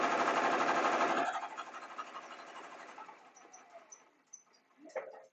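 Sewing machine stitching fabric for a shopping bag, a fast loud whirring run that stops after about a second and leaves faint clicks and handling noise.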